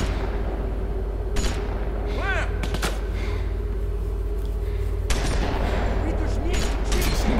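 A shotgun booms a few times in The Walking Dead video game, with sharp, loud blasts spaced seconds apart over a steady background hum.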